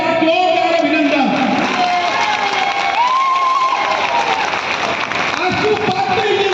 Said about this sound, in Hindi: सबसे पहले जोरदार ताली से इनका स्वागत करें।